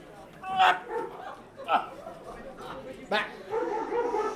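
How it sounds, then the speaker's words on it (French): A dog barks and yips in short bursts at a stage show, a few sharp calls spread across the moment amid whimpering sounds, with people speaking at the same time. "Écoute, le chien."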